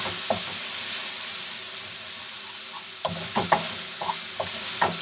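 Shrimp fried rice cooking in a pan with a little soy sauce added, a soft steady sizzle and hiss with occasional scraping stir sounds, close by and without talk.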